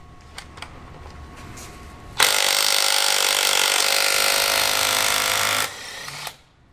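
A Snap-on impact wrench spins up and hammers continuously for about three and a half seconds against a 22 mm lug nut on a Ram 1500 torqued to 140 ft-lb, loud and close, then stops abruptly with a brief tail of lighter sound.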